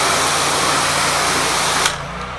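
A pressure washer rinses dirt off a concrete driveway and walkway at a Florida home, a steady loud hiss with motor drone that cuts off abruptly near the end, no talking.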